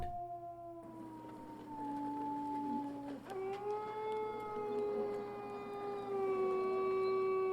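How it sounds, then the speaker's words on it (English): Wolves howl in long, sustained, overlapping wails that rise and bend in pitch, layered and steady for several seconds, with no talking. "Those wolves are really freaking me out."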